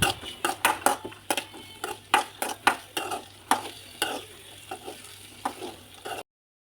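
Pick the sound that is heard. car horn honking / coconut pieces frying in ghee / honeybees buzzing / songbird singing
coconut pieces frying in ghee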